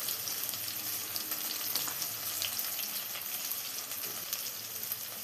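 Tomatoes and onions sauté in a pan for a fish peera dish, a continuous moderate sizzle and crackle with light stirring, steady throughout and free of voices.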